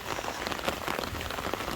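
Heavy rain falls steadily and hard all day, a dense, close, unbroken hiss and patter with no let-up across the short stretch.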